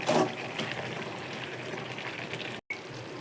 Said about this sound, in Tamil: தண்ணி கொஞ்சம் சேர்த்துங்க.